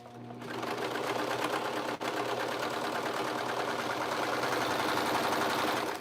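A sewing machine runs continuously while stitching a short seam of about an inch and a half on a sweater dress, giving a fast, even mechanical whir and rapid needle patter, close and steady for several seconds.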